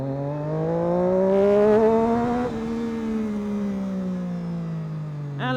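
A Triumph Daytona 675 sport motorcycle pulls in first gear, its engine note rising steadily and then falling back as it eases off, loud and close, alone with no voices over it.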